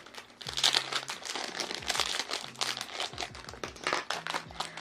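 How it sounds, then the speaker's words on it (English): Plastic bags crinkle and rustle up close, with irregular bursts of crackling as they are handled and squeezed together. "One plastic bag at a time."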